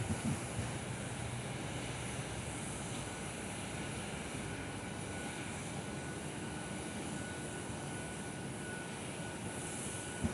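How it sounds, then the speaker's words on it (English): A New Zealand Boeing 787-9 Dreamliner lines up on runway 24 at Perth, its engines giving a steady, distant broadband roar mixed with wind buffeting the microphone, with no talk. "New Zealand now lining up with the 787-9 Dreamliner on runway 24 today"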